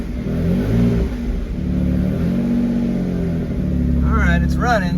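A project car engine cranks, catches and revs loudly nearby, its rough uneven note rising and falling as a person talks over it.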